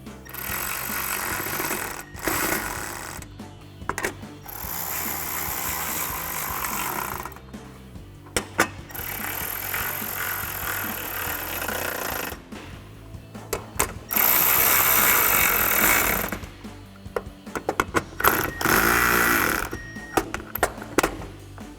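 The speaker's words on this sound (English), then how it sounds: "And then I'll grab my 7mm socket and start tightening down my screws." A ratchet with a 7mm socket tightens screws on a fog light bracket during an LED fog light install on a 2014-2015 GMC Sierra 1500, giving a loud, steady mechanical clicking in long runs broken by a few short pauses.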